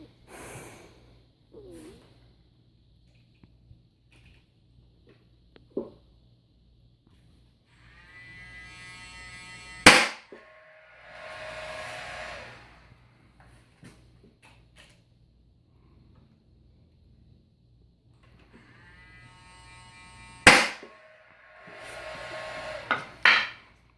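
A nail gun drives nails into glued wooden boards for a bookshelf build, firing two sharp loud bangs about ten seconds apart, each followed by a brief hiss, with quiet shuffling between shots.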